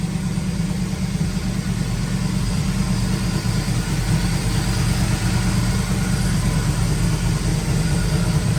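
An LS-swapped Lincoln Landau, unstarted for over a month, idles steadily at close range with a low, even engine rumble throughout.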